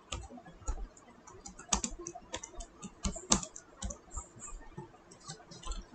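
Steady typing on a computer keyboard while entering a fire incident report message in a web form, with irregular clusters of key clicks and a few sharper, louder strokes, heard up close with no speech.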